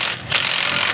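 A bolt on the strap of a 60-gallon aftermarket fuel tank being tightened under a 1999-2010 Ford Super Duty crew cab, a short close burst of ratcheting mechanical clicks with a brief pause.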